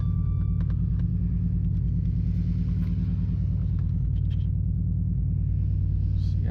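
A Chrysler 300 SRT8 rumbling steadily from inside the car during a night drive, its deep engine drone continuous and close with no talking.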